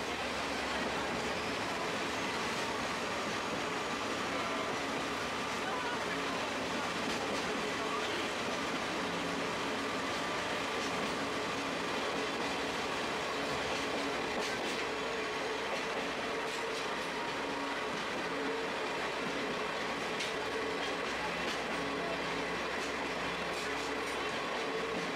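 A trolley train rolls steadily through an autumn gorge in Kyoto, a continuous rumble of wheels on rails with faint clacking and occasional squeal, heard from on board throughout.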